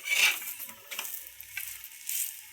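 Food roasting in a pan brushed with ghee gives a faint, soft sizzle with a few light scraping touches, fairly close but quiet throughout.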